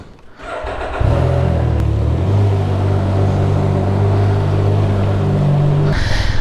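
A Can-Am Ryker three-wheeled motorcycle fitted with an adventure windshield starts its engine and settles into a loud, steady running note close by, setting off on a test ride, with a brief rise in pitch near the end.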